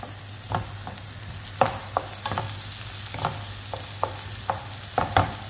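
Egg and tomato with onion sizzle steadily in a hot pan while a utensil scrapes and stirs in irregular clinking strokes, close up and alone.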